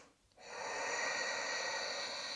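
A steady, close breath sound with a hissy, airy texture begins after a short quiet gap and holds evenly, as during a yoga exercise.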